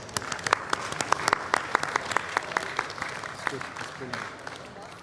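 At the World Culture Festival, an audience greets a dignitary with applause, heard as distinct, fairly sparse claps at a moderate level, with speech in the background.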